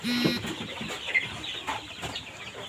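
Native desi hens and one-day-old chicks cluck and cheep close by, with a short rooster-like call at the start followed by scattered chirps over a busy farm background.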